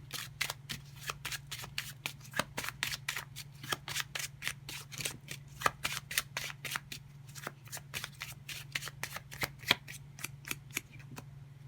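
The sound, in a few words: playing cards being shuffled for a card reading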